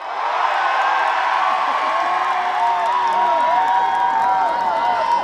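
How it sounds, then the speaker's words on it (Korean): Concert crowd at an outdoor trot performance at a ceramics festival cheers and shouts in a loud, sustained roar with high whoops, no talk over it. "그럼 함성 한번 질러보세요"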